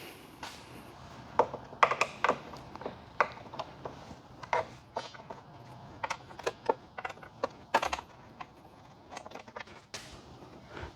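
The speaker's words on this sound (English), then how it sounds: "you're going to remove these 4 bolts" Four bolts loosened with a 5mm hex key on a Suzuki GSX-S1000GT luggage mount: quiet, irregular sharp clicks and ratcheting taps up close, clustered in bursts with short pauses between.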